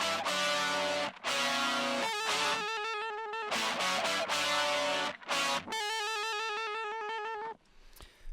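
Double-tracked, distorted electric guitars imitate brass parts in a cover of a song, playing loud, sustained buzzy chords in short phrases with brief gaps between them, alone without other instruments.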